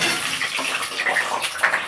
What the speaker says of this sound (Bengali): এবারে পটলগুলো আমি একটু ভেজে নেব তেলে।